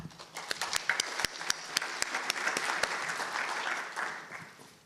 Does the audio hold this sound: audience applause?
yes